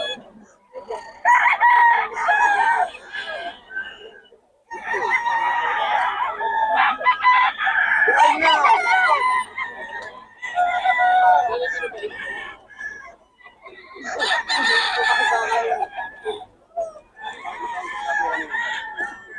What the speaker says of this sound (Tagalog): Sabong ni Pet, mga idol